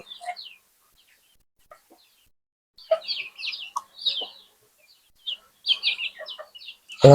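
Desi chickens and chicks cluck and peep in short scattered bursts while pecking at feed, fairly close, with quiet gaps between calls and a sudden thump at the very end.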